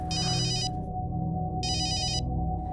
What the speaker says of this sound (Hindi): इंस्पेक्टर क्वात्रा का फोन है शिमला से।